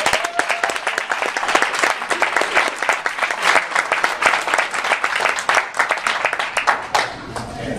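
Audience applause welcoming Dan and Annie Wilson, spokespeople for United Way of King County at a PEMCO spring campaign event: dense, steady clapping from a roomful of people, loud and close, sustained for several seconds before easing off.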